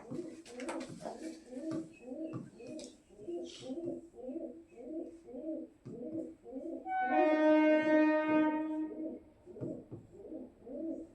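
A pigeon coos in a close, steady, repeating rhythm, with a bright whistling tone briefly rising over it partway through.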